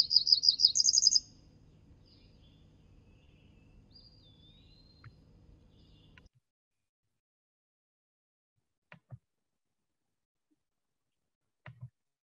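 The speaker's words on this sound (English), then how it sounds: "this one's gonna be a cerulean warbler" Recorded cerulean warbler song played back: a short, bright buzzy trill of rising notes at the start, then a faint hum and a few soft clicks in near silence.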